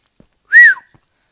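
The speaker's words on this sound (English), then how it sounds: "I gotta stop whistling to the microphone" A single short, loud whistle rising then falling, close to the microphone, with silence around it.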